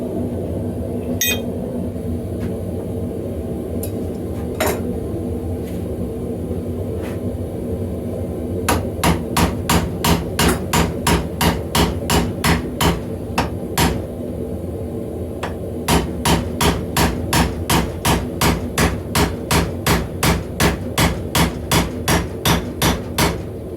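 Hammer blows drive a mandrel through the punched hole in a railroad spike for a tomahawk build. Sharp metallic strikes ring close and loud, first a few scattered, then in two fast steady runs of repeated blows over a low background hum.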